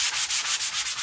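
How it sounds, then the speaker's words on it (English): A wooden bread paddle is rubbed with a sanding block in quick, even back-and-forth strokes, a close, steady rasping scratch of about seven passes with no talking. "I'm just going to sand this a little bit, mostly to try to get it smooth"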